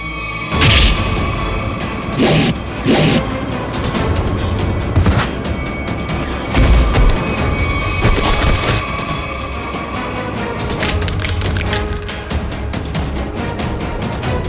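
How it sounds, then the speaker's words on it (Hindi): Loud, chaotic bursts of gunfire and booming impacts from a crime drama scene, with repeated sharp shots and blasts over a dense, dramatic music bed. "हम लोग तो कबूतर पे गोली चला रहे थे सर"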